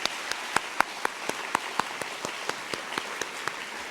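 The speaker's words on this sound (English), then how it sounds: "Let's give a big round of applause to our teachers." A graduation ceremony audience at GIIS SMART Campus claps for the teachers, with distinct sharp claps landing in a quick, fairly even rhythm over a soft hall background.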